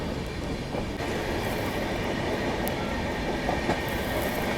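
A diesel locomotive hauls the Palace Queen Humsafar Express along the tracks, a loud, continuous rumble with rolling wheel noise and faint clickety-clack throughout.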